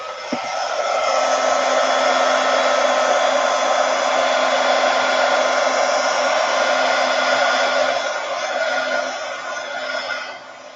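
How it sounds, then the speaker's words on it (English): A heat gun blows on freshly applied acrylic paint on an upcycled accessory, a loud, close, steady whooshing drone with a constant motor hum that runs about ten seconds before shutting off, with no talk. "I'm going to just hit this with my heat gun just for a second or two"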